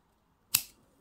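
Wire cutters snip through jewellery wire while a wire-wrap pendant is being made, two sharp, close clicks about half a second apart in otherwise quiet surroundings.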